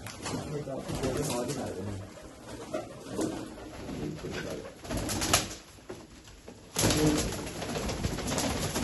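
Golden and Sialkoti pigeons coo in a loose backdrop of low murmuring calls, with someone talking over them and other birds chirping faintly throughout.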